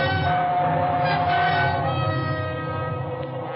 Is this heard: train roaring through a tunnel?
yes